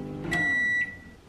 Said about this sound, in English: heat that up in the microwave and enjoy